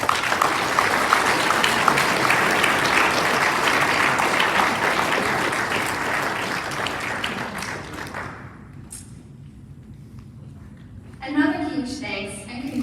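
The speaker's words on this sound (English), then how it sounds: "a huge round of applause" Audience applause at a graduation gala, a dense, loud wash of clapping that fades out after about eight seconds, followed by a speaker's voice over the quiet room.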